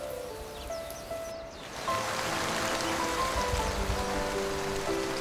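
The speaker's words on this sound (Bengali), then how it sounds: "বাইরে বৃষ্টি পড়ছে" Rain falls outside on a rainy day in an animated cartoon, a steady hiss of drops on surfaces that swells and grows denser partway through.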